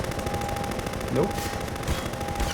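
Rapid, sustained automatic fire from an attacking helicopter in the Half-Life 2 water hazard chapter rattles loudly and continuously throughout, over a dense, noisy background.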